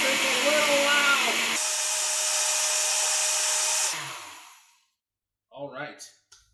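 A blender whirs loudly, blending peppers and chicken broth into a sauce, its motor pitch shifting once before spinning down to silence, followed by a short burst of speech.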